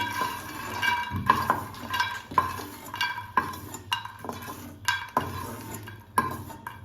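Roasted makhana (fox nuts) are scooped out of a pan with a spoon, making a series of close metallic clinks and scrapes in uneven rhythm over a faint sizzle.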